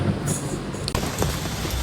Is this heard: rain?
yes